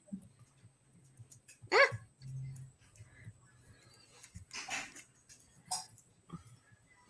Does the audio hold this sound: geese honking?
no